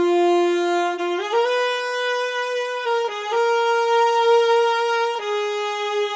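Three layered saxophones play a sustained, rich melody line in a Mario Kart style composition, held notes stepping up and down with a few quick note changes, loud and alone.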